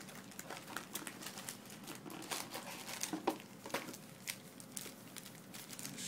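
Soft, close crinkling and flicking as a small stack of Yu-Gi-Oh! trading cards is shuffled, with irregular light taps and rustles and no talking.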